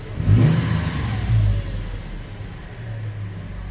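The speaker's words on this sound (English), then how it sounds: "I'll give it a rev." A Toyota FJ Cruiser fitted with a Harrop supercharger revs up hard at close range, its engine rumble swelling in two quick bursts before settling into a steady lower hum.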